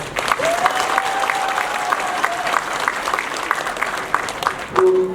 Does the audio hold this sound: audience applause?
yes